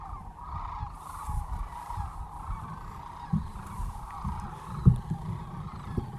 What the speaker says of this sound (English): Now here goes all those ducks